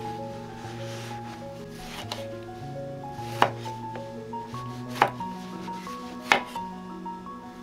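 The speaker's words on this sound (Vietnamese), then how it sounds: "Cà chua thì các bạn cắt múi cao ha, to to một chút vì cà rất là dễ nhừ nha." A knife slices tomatoes into large wedges for Vietnamese bún riêu, three crisp chopping knocks landing on a board over a sustained tonal background hum of music, close and moderately quiet, no speech.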